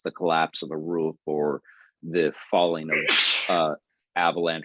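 One sharp, breathy sneeze bursts out in the middle of a man's calm spoken reflection on Taoist philosophy, brief and close, with talk on either side.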